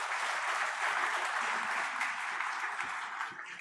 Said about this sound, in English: a big round of applause would be nice